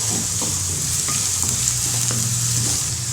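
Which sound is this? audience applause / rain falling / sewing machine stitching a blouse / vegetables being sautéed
vegetables being sautéed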